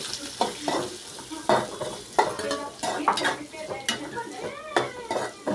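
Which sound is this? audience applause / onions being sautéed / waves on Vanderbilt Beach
onions being sautéed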